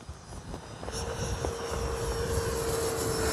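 Freewing L-39 80mm RC jet flying past outdoors, a steady engine whine that grows louder as it approaches, with wind noise and no talking.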